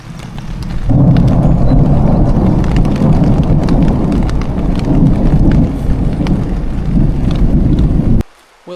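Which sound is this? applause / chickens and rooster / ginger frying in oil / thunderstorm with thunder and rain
thunderstorm with thunder and rain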